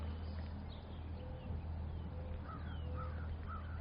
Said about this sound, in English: Crow is calling in the distance.